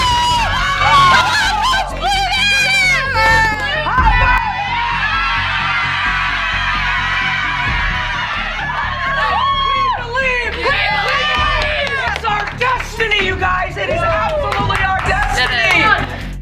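A sold-out college basketball arena of 18,000 fans roars for Caitlin Clark, a loud, dense wash of cheering and crowd babble that swells and stays sustained throughout.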